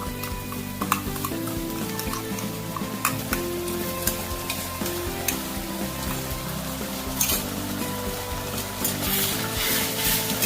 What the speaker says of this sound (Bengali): আদা রসুন কাঁচা লঙ্কা শুকনো লঙ্কার পেস্টটা দিয়ে দিচ্ছি